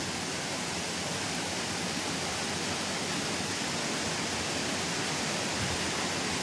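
Queue de Cheval waterfall at Chaumont above Saint-Claude in the Jura, a steady, loud broadband roar of falling water with no break or voices.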